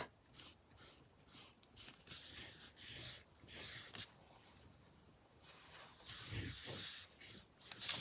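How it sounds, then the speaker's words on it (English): Close rubbing of a cloth or brush over layered paint on a moulded clay tile, a soft scrubbing texture in repeated strokes with a few brief pauses and a louder burst near the end, no talking. "So I'm rubbing just a little bit more to get more of that white to pop."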